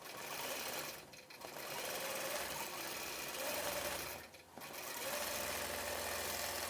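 A quilting machine stitches a Christmas tree skirt and stocking with a steady, rapid mechanical hum, briefly dipping twice as it slows and resumes, close and quiet with no talking.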